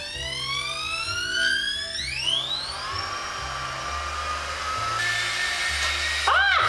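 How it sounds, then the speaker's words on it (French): A hair dryer switches on and its motor whine climbs steeply in pitch, then settles into a loud, steady blowing hum close by. "sèche-cheveux en route."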